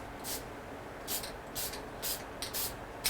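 A few short, close spray bursts from a spray bottle onto bamboo covered with masking tape, separated by brief pauses over a quiet background.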